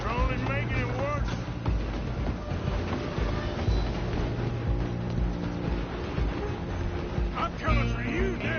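Steam-era train in Red Dead Redemption 2, a steady low rumble and rolling clatter with whistle-like tonal sweeps, heard under chase action and shouted voices.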